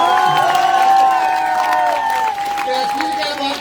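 Large crowd at an outdoor election rally clapping and cheering loudly together, a dense sustained wave of applause with shouts mixed in that eases slightly toward the end.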